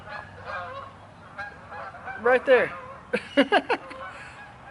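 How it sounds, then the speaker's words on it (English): A gaggle of geese or flock of ducks honking nearby, with a burst of loud calls followed by a rapid series of honks, heard beneath and after a man's speech. "there's a whole entire gaggle of geese or flock of ducks or something just literally"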